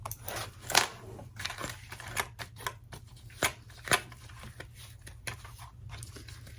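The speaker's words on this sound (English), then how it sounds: "So trimming away any extra threads." Scissors snip repeatedly at close range, trimming extra threads from a handbag, several sharp crisp cuts spaced irregularly over quiet background rustling.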